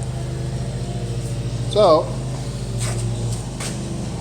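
A lawn mower runs outdoors at a distance, giving a steady low engine drone throughout, with a voice speaking briefly over it.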